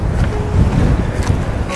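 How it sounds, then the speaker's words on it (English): Wind gusting steadily across a microphone on a dusty mountain hike in the Picos de Europa, a broad low rumble with buffeting that swells and eases, close and fairly loud, no talking. "it is windy today, and it was forecast wind"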